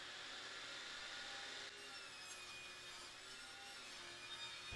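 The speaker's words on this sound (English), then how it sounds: "set my rip fence at a distance that'll cut at least a little bit off every inch of the other side of that board and just run it through" A table saw rips a scrap board along the rip fence, a steady, continuous whirring cut at moderate loudness with no voices.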